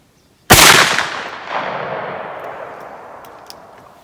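A single sharp, loud blast from a 32 gauge shotgun firing a TPF Hunter sabot slug at a range, followed by a long decaying echo and a faint second reflection.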